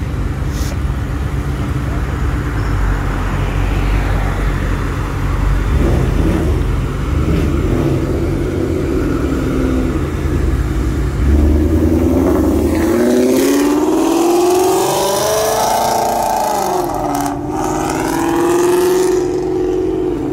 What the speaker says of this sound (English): I want to hear this Hellcat